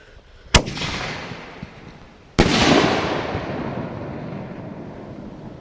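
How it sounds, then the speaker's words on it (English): A canister shell firework bursts loudly after launching from a mortar tube: a sharp crack, then a second louder break about two seconds later, followed by a long rolling echo on a quiet morning. "That was an incredible loud break from a firework"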